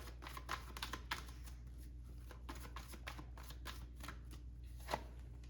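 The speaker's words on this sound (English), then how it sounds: "I'm getting called to switch the deck, but I'm going to get one card out of here." Tarot cards shuffled by hand in a quiet room, a steady run of soft riffling flutters and light taps, with one sharper slap near the end.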